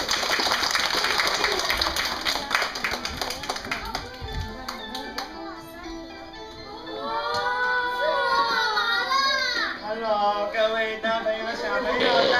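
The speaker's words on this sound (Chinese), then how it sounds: "我们一起用掌声欢迎他出来。" A classroom audience claps together to welcome a mystery guest from Vietnam. There are a few seconds of dense, steady hand-clapping, and then it fades into bright voices.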